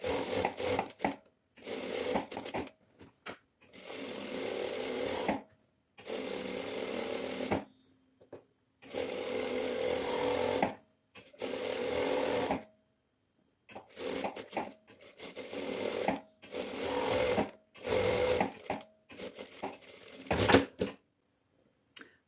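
Domestic sewing machine running in repeated bursts of whirring stitches with short pauses between, sewing a very narrow seam close to the edge of fabric while making a curved hem for a shirt or dress; no talking.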